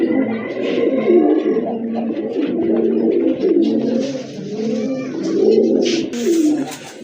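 Pet pigeons in a sale collection coo repeatedly in low, rolling throaty calls, several birds overlapping close by, with faint chirps and rustling on top.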